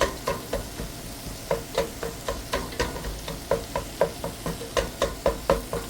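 Chopped onions cooking down in a pan for homemade hash: a steady sizzle under regular, rhythmic stirring strokes, about two scrapes per second, close and clear.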